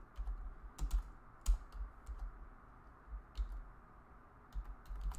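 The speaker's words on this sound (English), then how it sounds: "let's type" Typing on a computer keyboard, with soft irregular clicks in short bursts and pauses, close and fairly quiet, with no talk.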